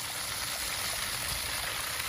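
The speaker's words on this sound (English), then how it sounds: "Well, the water's coming out of the waterfall." Water pours steadily from a backyard pond waterfall, a continuous broadband rush of flowing water close by with no talking over it.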